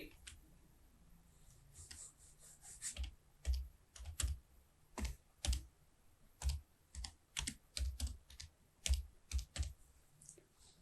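Keys on a computer keyboard tapped out in bursts of quick, close clicks with short pauses between, a new worksheet name being entered in MS Excel 2013 on Windows 10, no talk.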